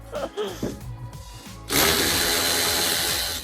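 Power ratchet at work on a 1992 Ford Ranger during engine removal, starting after a short clatter of tool handling and then whirring loud and steady for nearly two seconds.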